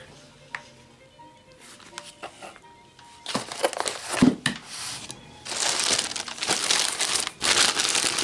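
A paper fast-food bag holding French fries crinkles and rustles close by, starting with sparse light crackles then growing into louder, denser crumpling bursts.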